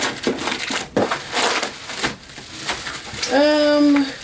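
Packaging from a mailed box of candles being pulled out and crinkled in close, loud crackling bursts, while a person talks intermittently.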